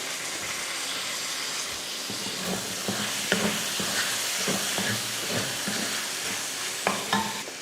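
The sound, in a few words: sautéing lentils and tomatoes in a pan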